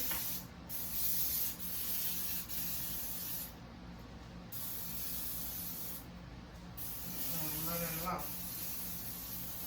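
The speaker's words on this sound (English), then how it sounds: "Then I'm gonna spray my pan." Several short bursts of aerosol spray hiss close up, separated by brief pauses, with a faint clink of a pan near the end.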